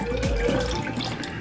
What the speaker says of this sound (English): Now we're gonna pour the water.